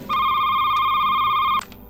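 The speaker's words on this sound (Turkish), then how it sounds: "Abi benim telefon çalıyor." An in-game telephone rings with a steady electronic tone for about a second and a half, loud and close, then cuts off into low background game sound.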